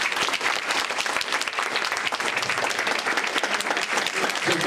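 Sustained crowd applause as a debate audience votes for the opposition side, thick continuous clapping from many people at a steady, loud level throughout with no speech.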